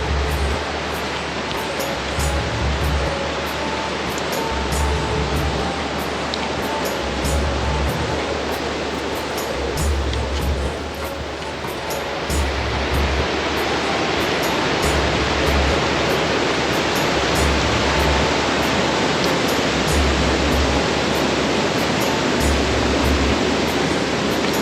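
Creek water rushes steadily beside a rocky mountain trail in Nepal, a dense, continuous wash of flowing water close by with no break in its level.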